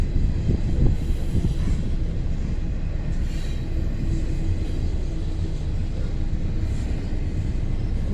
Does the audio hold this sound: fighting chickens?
no